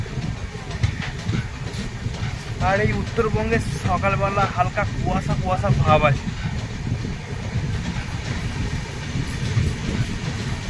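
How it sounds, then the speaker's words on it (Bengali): The Howrah–Dibrugarh Kamrup Express runs out from Aluabari Road Junction on a misty morning, with a steady rolling rumble and hiss of the moving carriages throughout, while someone talks over it for a few seconds. "আলুয়াবাড়ি রোড জংশন থেকে ট্রেনের ডিপার্চার হয়ে গেছে"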